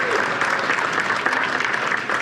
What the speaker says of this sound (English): Give us and you a round of applause.